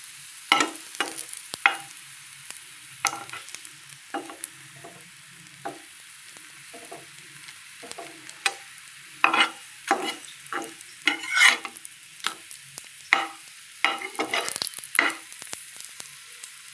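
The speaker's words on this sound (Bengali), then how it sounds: "খুব সুন্দর করে উল্টে পাল্টে ভেজে নিতে হবে।" A katla fish omelette fries in hot oil in a pan on low heat, crackling and spitting in quick bursts, with frequent sharp taps and scrapes as it is turned and moved about.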